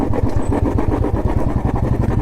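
Royal Enfield Bullet motorcycle ridden on rough roads around Coorg, its engine thumping in a steady, rapid low pulse, loud and close throughout with no talking.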